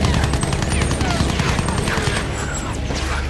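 Machine gun fire in the Battlefield 1 campaign chatters in a rapid, steady stream, loud and dense from start to finish with a slight easing toward the end.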